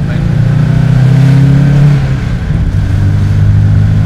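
A 1973 BMW 2002 Tii's four-cylinder engine drones loudly from inside the cabin at full throttle, a steady strained hum that climbs and then shifts pitch as the car gains speed.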